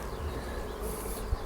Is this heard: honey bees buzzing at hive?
yes